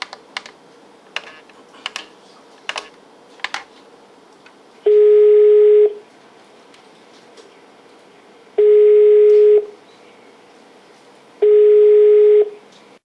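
Telephone call tones from an unanswered call to a Kolomyia building company: quick keypad taps at the start, then three long, loud ringback tones separated by pauses, with no one picking up.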